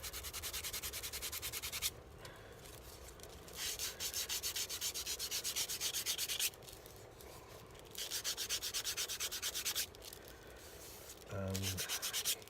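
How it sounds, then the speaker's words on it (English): Sandpaper rubs back and forth over a painted model in long, steady bursts of close, even scratchy friction, broken by short pauses, with no voices. "I'm going to sand all of this."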